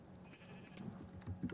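Minecraft sheep bleat several times in a row, fairly close and a little coarse, over a low murmur of game sounds.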